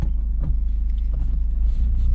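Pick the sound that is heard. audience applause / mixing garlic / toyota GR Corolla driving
toyota GR Corolla driving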